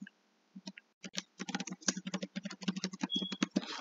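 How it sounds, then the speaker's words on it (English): Fast, steady typing on a computer keyboard, close and clear, with dense clattering keystrokes running almost continuously after a brief opening few taps. "So now I'm going to type out my name in all caps,"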